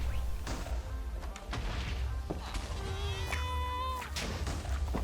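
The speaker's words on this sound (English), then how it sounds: "I love the noises that screaming goat makes." In the Minecraft video game, a screaming goat bleats in short, strained cries amid thumps and clatter from nearby game action, at a fairly quiet level with no talking.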